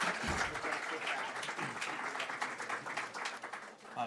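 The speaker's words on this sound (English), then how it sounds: "Give them one more round of applause." Steady audience applause fills the room, a dense wash of many hands clapping at a fairly even level with a brief swell near the end.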